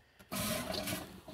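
An RV toilet in a camper flushes pink antifreeze, a short close rush of water with a gurgling surge and then a steady draining flow, with no talk.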